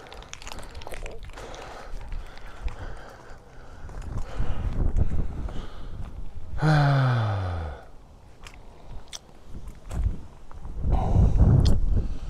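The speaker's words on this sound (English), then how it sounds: "It's windy out here." Gusty wind buffets the microphone in rising and falling bursts, with a brief whinny-like animal call in the middle.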